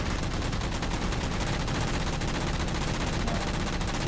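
Dense, continuous automatic gunfire in the Halo 4 campaign while taking out a turret, a loud unbroken barrage with rapid shot pulses throughout and no pauses.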